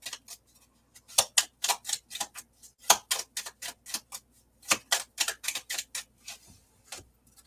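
Quick bursts of crisp, papery riffling clicks in uneven clusters, like oracle cards being shuffled close by, with short pauses between runs.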